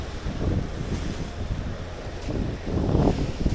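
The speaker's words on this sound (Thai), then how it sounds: "เพราะวันนี้ลมมาทางขวา แล้วเข้าหน้าเรานะครับ" Wind blows across the microphone near an island at sea, a steady rough rumble with gusty swells and a wash of waves or a boat's motion underneath.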